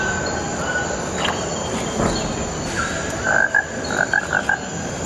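Frogs croak in short repeated bursts over a dense, constant chorus of night insects and a low background rumble.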